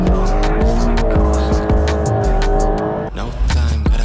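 Tires squeal loudly while a car drifts on Black Series tires, with a continuous high screech over a roaring engine that swells and dips, close and intense throughout.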